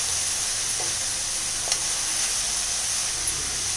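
Sun-dried tamarind and big onions sauté in a pan for onion thokku, giving a constant soft sizzle and hiss with a few faint stirring taps, close and steady, with no voices.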